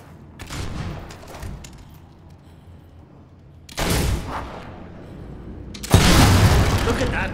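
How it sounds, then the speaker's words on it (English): Gunshots in the video game Fable III ring out as three separate loud cracks spaced seconds apart, each with a booming tail, the last one strongest, over quieter background game noise. "I could shoot them all day."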